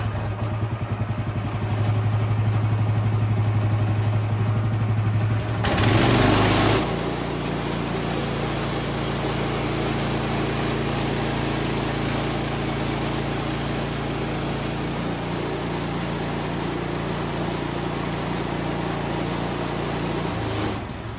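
Engine-powered saw cutting through a wooden utility pole, a steady loud motor drone with a brief surge as the blade bites, then continuous cutting noise throughout, close by.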